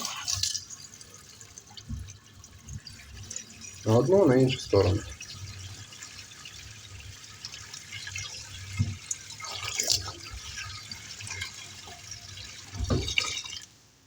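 Water runs from a faucet just fitted with a new mixer cartridge, still carrying rust at first, making a steady hiss with occasional splashes while someone talks briefly.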